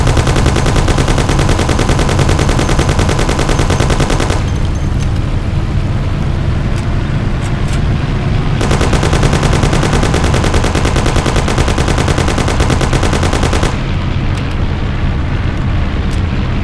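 Gunfire in the video game Mafia: The City of Lost Heaven, a loud sustained machine-gun-like rattle in long bursts over a roaring car engine, broken by brief quieter stretches where the motor dominates.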